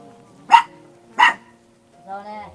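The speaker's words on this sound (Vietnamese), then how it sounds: "mình nghe tiếng có chó sủa nè" A dog near a house gate gives two sharp, separate barks close by, followed by a softer whining yelp, with quiet moments in between.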